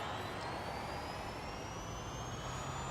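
A Chinese electric car in Forza Horizon 5 pulls away from a standing start, giving a steady rising electric whine over a broad hum of road and wind noise, with no voices.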